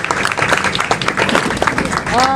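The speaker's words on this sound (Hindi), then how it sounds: "हमको ज़ोरदार तालियां बजा के सबका मनोबल बढ़ाना चाहिए।" An audience claps steadily at a ceremony honoring women who completed free municipal courses in Mira Bhayandar, with voices talking over the applause.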